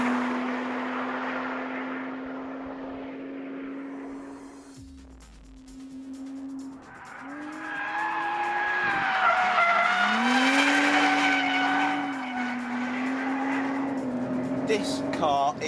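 A Lotus Evora S driven hard on a race circuit, its engine revving loudly with rising and falling pitch through gear changes and tires squealing. Someone talks over the noise throughout.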